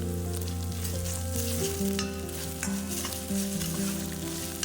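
Ginger garlic paste masala frying in oil with fish pieces, a loud continuous sizzle with steady stirring scrapes and a low pan hum, close up and without talk.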